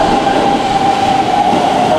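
A train rumbles loudly at Kyoto Station in Japan, a dense steady roar of wheels and rails with a sustained squealing tone riding over it, heard close and without pause.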